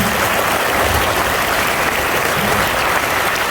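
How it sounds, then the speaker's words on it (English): A loud, sustained round of applause from an audience at a Teachers' Day celebration, thick and continuous like a full hall clapping together, with no pauses or talk over it. "request the audience to give a powerful round of applause to these guys"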